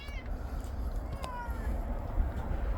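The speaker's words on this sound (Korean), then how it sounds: "고식이는 야옹" A stray cat meows a few times, short and fairly close, over a low rumbling background with faint voices around.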